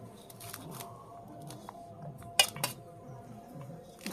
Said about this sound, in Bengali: থালায় ভাত নিয়ে নিচ্ছি।